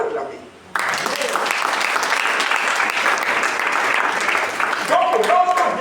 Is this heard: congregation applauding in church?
yes